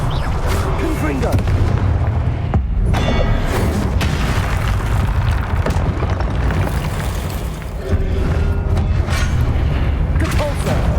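Confringo blasting spells go off in a video game as repeated heavy booms and crackling bursts, layered over a continuous dense rumble, with a person talking throughout.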